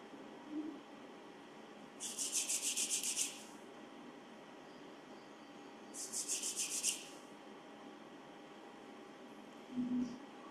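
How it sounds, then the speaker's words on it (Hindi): Hands rubbed briskly together at the end of a Reiki meditation session, two separate bursts of soft, close swishing friction, each lasting about a second, set apart by quiet room tone. "अपने हाथों को रब कर लीजिए और अपनी आंखों पर रख लीजिए।"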